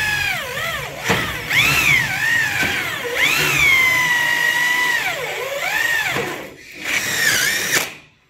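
A power drill whines during installation of an aluminium Xingfa door, its pitch rising and falling as it revs, with several separate runs of the motor, loud and close.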